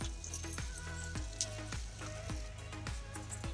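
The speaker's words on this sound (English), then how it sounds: "I'm gonna fry my rice until it's golden brown" Rice frying in a pan toward golden brown, a steady close sizzle that runs the whole time with a few small crackles and stirring scrapes over a low hum.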